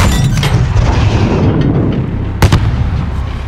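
A heavy explosion in Call of Duty: Modern Warfare, loud and close with a rumbling blast followed by a sharp second bang, set against dense battle noise.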